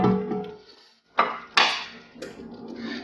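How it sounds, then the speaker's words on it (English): Metal whisk scraping and clinking against a pan while flour is whisked into a sauce for chicken pot pie, a few sharp clanks and scrapes close by, no talking. "I'm actually going to whisk this flour in just because I don't want it to be clumpy at all."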